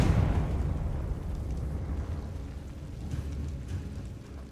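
A Confringo blasting spell detonates in the Hogwarts Legacy video game, a heavy explosion right at the start that decays into a long, rumbling roar over several seconds, with no voices heard.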